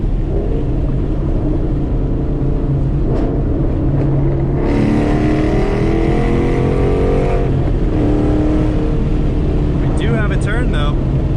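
A Ford Mustang GT 5.0 with a ghost cam and Wild Lund Racing tune, heard from inside the car as the engine rumbles loudly, revs and downshifts with blips, while people talk over it.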